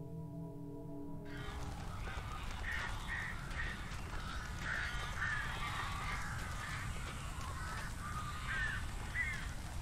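Crows caw repeatedly in the dark setting of Alan Wake Remastered, a series of harsh, moderately distant calls over a low, steady ambient drone after a brief tonal musical sting.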